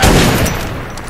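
Gunfire in the video game Metro 2033 fills the moment as a loud, dense burst, with a dull boom that tails off over about a second.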